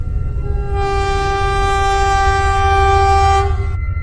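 An animated train pulls in with a long, loud sustained horn blast over a heavy rumbling roar of rolling wheels, the horn cutting off near the end while the rumble continues.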